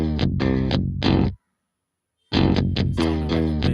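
Low, heavily distorted reamped electric guitar notes with a thick bass-like tone, reverb off, played in two bursts separated by a second of silence.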